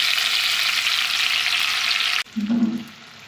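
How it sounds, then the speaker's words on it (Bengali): Loud, steady sizzle of oil after frying Surma/siding fish, cut short as tomato and onion drop into the same oil, the hiss dulling into a brief lower bubbling burst. "একই তেলে এই যে টমেটো পেঁয়াজ কাটা আছে একসঙ্গে দিয়ে দেবো"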